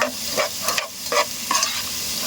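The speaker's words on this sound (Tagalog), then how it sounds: "Ganito lang kasimple mag-gisa ng pasayan." Shrimp sautéing with garlic in a hot pan, a close steady sizzle broken by several scraping stirs of the utensil.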